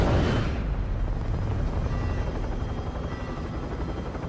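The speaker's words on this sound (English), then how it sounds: "choppers, okay." Helicopters in Call of Duty Warzone, a loud, dense rotor roar that begins with a heavy burst and keeps churning steadily, slowly easing in level, with no voices.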